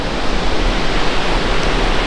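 A waterfall in Scotland, heard from a viewing platform above a long drop, gives a loud, steady broadband roar with no breaks, and no voices come through.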